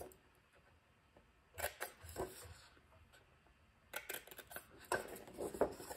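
Scissors snip paper journal snippets in a few close, crisp bursts of cutting, separated by quiet pauses, with no talking.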